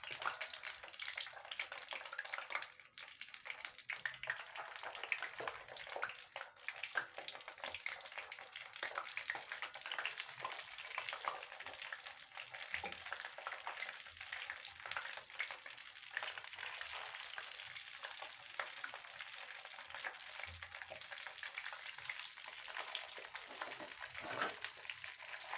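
Breaded chicken pieces deep-frying in hot oil for crispy fried chicken, giving a steady, dense sizzle that carries on without a break, close and fairly loud, with no voices.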